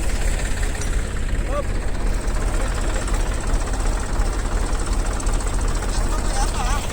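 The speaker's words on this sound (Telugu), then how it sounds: "ట్రాక్టర్ ఇటేపు లాగుతుందండి" A steady, droning tractor engine runs throughout, rumbling and vibrating at constant level, with a few faint voices over it.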